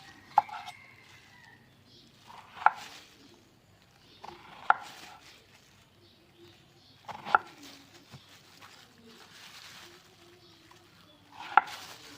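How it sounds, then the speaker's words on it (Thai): A knife slices through eggplant on a cutting board, with sharp, separate chops spaced a couple of seconds apart, fairly quiet and close. "มาหั่นมะเขือก่อนเจ้า"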